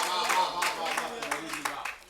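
An audience at a Hindi poetry recital claps in a steady rhythm of sharp beats, heard under someone speaking loudly over them.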